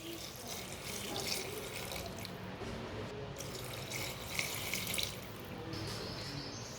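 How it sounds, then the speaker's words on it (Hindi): Two glasses of water poured into a cooking pot of meat simmering without a pressure cooker, a steady splashing stream running throughout, loud and close with no talk. "अब इसमें 2 गिलास पानी डाल लेंगे।"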